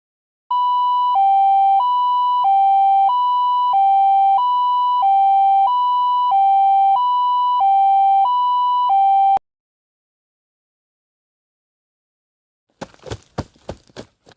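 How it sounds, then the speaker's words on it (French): A loud two-tone electronic ambulance siren in a video game alternates steadily high and low for about nine seconds, then cuts off abruptly; after a silence, brief clattering noises follow. "Oui, l'ambulance arrive."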